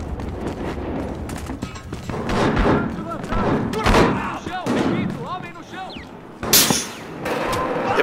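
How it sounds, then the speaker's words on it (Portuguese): Sniper rifle shots and gunfire in the video game Battlefield Hardline, loud sharp cracks and thuds scattered through an online match, with someone talking over them throughout. "alguém quer me acertar com o snipe"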